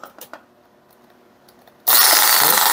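A Bosch PSB 550 RE drill with freshly replaced carbon brushes: a few light handling clicks over near silence, then the motor starts abruptly into a loud, steady, high whine that holds to the end.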